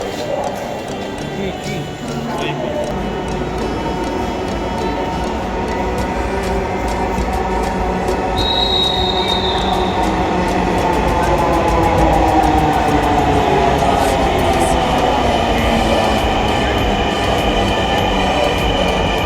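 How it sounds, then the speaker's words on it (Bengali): A Dhaka metro rail train arrives and runs, giving a steady loud rumble with wheel noise and a brief high squeal, continuous throughout with some crowd voices in the background. "এখন আমরা মেট্রো রেলে উঠবো"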